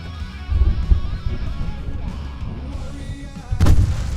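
Heavy gunfire from the Alan Wake video game, with booming shots bursting out around the half-second mark and again in a louder volley near the end, over a rumbling game soundtrack.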